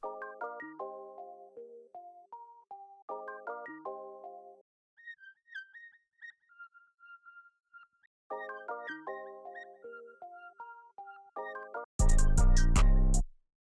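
Chopped, sampled chords trade off with a thin synth melody in a beat, then both play together in a dense, loud burst near the end, with no talk.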